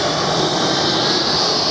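An HSDJETS twin 90mm EDF Me-262 model jet roars past at a Florida electric jet event, a loud, steady ducted-fan whoosh filling the whole moment without voices.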